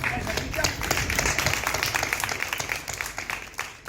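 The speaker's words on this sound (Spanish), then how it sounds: "Un aplauso para Cristian, por favor." An audience at a book-saga presentation bursts into warm, dense applause with overlapping claps and crowd murmur, loud and sustained across the few seconds before tapering slightly at the end.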